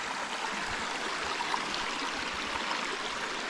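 Steady rushing water from a small woodland creek, a constant broadband flow with a light trickling texture, heard up close and alone with no voices.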